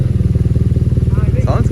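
A BMW R nineT motorcycle with modifications idles close by, a loud, deep, rhythmic boxer-twin thump pulsing steadily, with a voice briefly speaking over it near the end.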